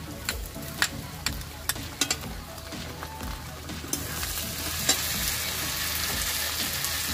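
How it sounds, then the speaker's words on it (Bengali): Ginger paste hits a pan of fried onions with a steady oily sizzle, punctuated by repeated sharp clicks of a spatula stirring, the frying growing denser and louder toward the end. "পেঁয়াজটা লাল লাল করে ভেজে নিয়েছি, এবার আদা বাটাটা দিয়ে দেবো।"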